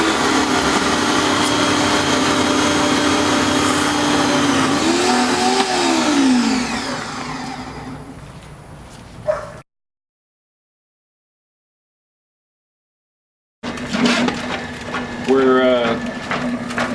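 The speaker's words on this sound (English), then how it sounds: "We're putting the cable in there to scrape out any blockages that might be in the line" A plumbing drain cable machine runs steadily with a loud motor whine while clearing a line, its pitch dipping and rising under load before a silent gap, then resumes with rising tones.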